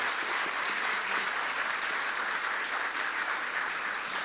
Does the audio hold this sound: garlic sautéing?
no